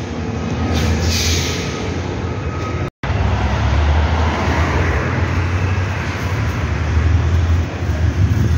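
Truck passing along a city avenue under road works, a loud close rumble of engine and tires that holds steady and swells near the end, set against ongoing traffic noise.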